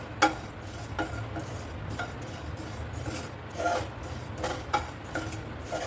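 Sesame seeds stirred and lightly toasted in a dry pan for a Bengali khirod katla fish dish, giving a soft continuous scraping with light crackle and a few sharper utensil taps against the pan.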